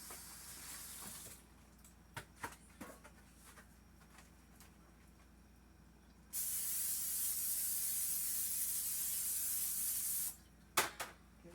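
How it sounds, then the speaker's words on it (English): A cooking spray can hisses onto a metal tray being readied for freezing food, with a few faint clicks, then one long, steady spray lasting about four seconds, followed by a brief final burst. "Give it a good spray."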